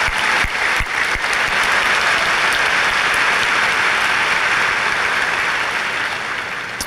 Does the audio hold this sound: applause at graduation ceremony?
yes